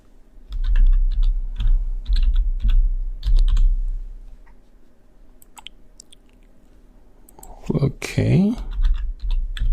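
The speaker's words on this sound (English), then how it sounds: "let's type in admin." Keys clack on a computer keyboard as a login is typed into an Oracle APEX web app, bursts of brisk close taps in clusters, with a voice speaking briefly near the end.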